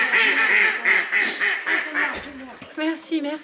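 Ducks quack repeatedly in short bursts, fairly close, with a brief scuffling noise partway through and more quacks near the end.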